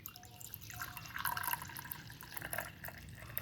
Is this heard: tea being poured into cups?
yes